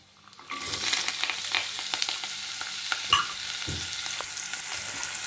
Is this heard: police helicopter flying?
no